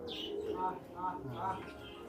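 An old pigeon, probably a male of an old high-flying breed kept at a farm, gives three soft, evenly spaced coos close by while people murmur nearby.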